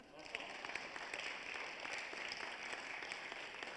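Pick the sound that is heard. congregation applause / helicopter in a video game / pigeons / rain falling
congregation applause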